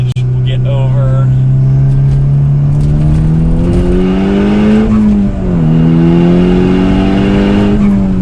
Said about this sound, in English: I love the sound too. It's got a center mounted exhaust